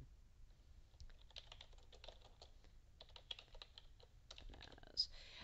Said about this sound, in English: I'm just going to type a couple of items in here